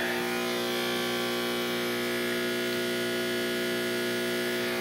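A John Deere 4010 tractor engine idles at a steady, even pace, making an unbroken humming drone that stays at the same loudness throughout, with no talking.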